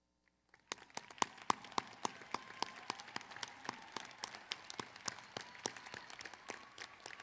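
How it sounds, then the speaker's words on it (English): Audience applauds faculty and staff at the UNLV Winter 2022 graduate commencement ceremony, with quiet, scattered individual claps that begin after a short silence and continue steadily in a large hall. "join me in a round of applause for all of your tireless efforts to help our graduates reach the milestone today"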